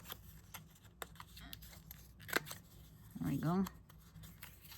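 Paper is cut with scissors for a handmade mini accordion-style journal, giving a short crisp snipping burst near the end of the clip, close and quiet, after a few light paper rustles and a brief spoken remark.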